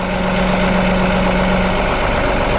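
A compact tractor engine idles with a steady, loud, unbroken drone while its front loader rests in float mode.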